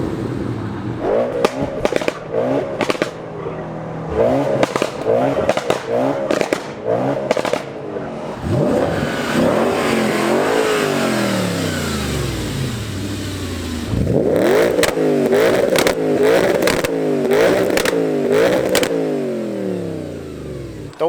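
A tuned Audi B7 RS4 with 160,000 miles revs hard, rising and falling repeatedly with sharp crackles and pops between throttle blips. The engine is loud and close, with sustained high-rev stretches in the middle.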